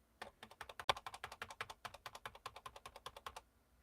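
Rapid, even clicking of computer keyboard keys being typed, a steady run of close, crisp taps with no talking.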